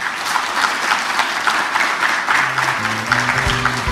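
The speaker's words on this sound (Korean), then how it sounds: "수고해 주신 이상준 팀장님께 다시 한번 큰 박수 부탁드리겠습니다." A conference audience gives warm applause to a speaker, an SK Telecom IoT solutions team leader, at the end of a session. The clapping is steady and fairly loud throughout, and a faint tonal hum enters toward the end.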